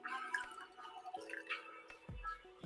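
A tablespoon of lemon juice is poured into a cranberry apple fizz mocktail, giving a faint, quiet trickle broken by a few small drips.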